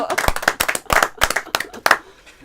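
A small audience claps in uneven bursts, with sharp, close individual hand claps standing out rather than merging into a smooth roar, and some voices mixed in.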